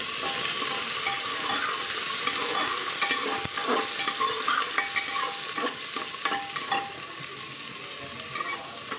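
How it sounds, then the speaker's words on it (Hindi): Ginger and onion sizzle in very hot oil as they are stirred, a constant bright frying hiss with light scraping and occasional clicks of the spatula, near and continuous, no voices. "तेल तेज़ गरम है ना तो इसी हाथ हम प्याज भी डाल देंगे और इसको थोड़ा सा हिला लेते हैं"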